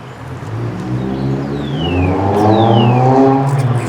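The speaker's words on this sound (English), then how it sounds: "there's a lot of traffic in the neighborhood" Outdoor neighborhood traffic passes close by, a car engine rising and revving with a building rumble and whir that grows louder over several seconds.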